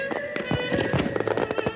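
A fireworks display bursts in rapid irregular succession, a dense run of sharp cracks and booms over a steady background rumble, close and loud.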